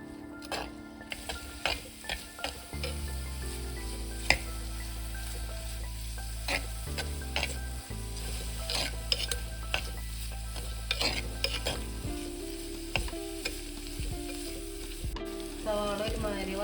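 Green chilies, ginger and curry leaves sauté in a pan for a Kerala fish curry, a steady close sizzle with scattered stirring scrapes and clinks throughout, no talking.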